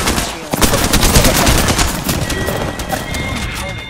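Loud, rapid gunfire in Apex Legends: a heavy automatic burst kicks in after a brief pause and rattles on close and dense, tapering slightly toward the end.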